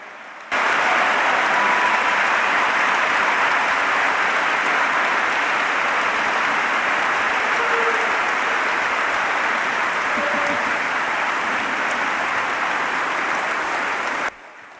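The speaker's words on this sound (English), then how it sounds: "Now you can applause." An audience at a museum living-history event applauds former prisoners of war, a steady wash of clapping that holds evenly for about fourteen seconds and then stops abruptly.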